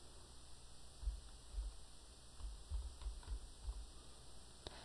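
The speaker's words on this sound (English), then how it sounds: "I can simply type Notepad." Computer keyboard keys tapped in a short run of soft, close clicks with brief pauses between them, quiet over a faint steady hiss.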